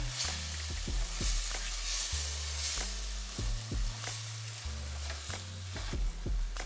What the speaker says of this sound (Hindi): Gently मसाले को एग्स के साथ भुनेंगे